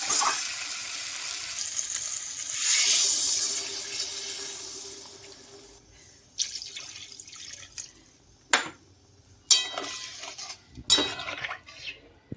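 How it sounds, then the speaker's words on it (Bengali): Water poured into a pan of oily, long-fried potol (pointed gourd), potato and prawn curry hisses loudly at first, then the sizzle fades, followed by a few sharp clinks and scrapes of a utensil against the pan. "এবার আমি দিয়ে দেবো পরিমাণ মতো জল"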